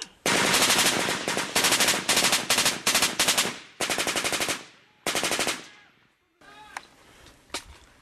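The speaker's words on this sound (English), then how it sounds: "There's a machine gun out there." Machine gun fire in an Afghanistan firefight: loud, close bursts of rapid automatic shots in several long strings with brief gaps, followed by a few scattered single cracks and echoes.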